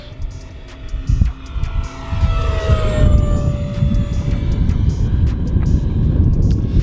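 A small electric ducted fan RC jet, an Arrows F-86 Sabre, sweeps past with a high whine, its pitch sliding downward, then settles into a steady rushing roar outdoors.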